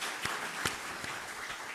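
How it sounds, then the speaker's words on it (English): Audience at a university lecture gives a brief round of applause, a dense, steady patter of many hands with a few sharper individual claps standing out, heard alone without talk. "Let's give them all a warm round of applause."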